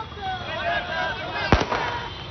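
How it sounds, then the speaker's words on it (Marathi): A single sharp firework bang cracks out partway through, over a murmur of voices and background noise, during Maratha protesters' celebrations. "ठिकठिकाणी आता फटाक्यांची आतषबाजी आपल्याला बघायला मिळते"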